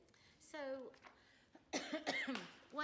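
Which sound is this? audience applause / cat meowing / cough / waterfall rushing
cough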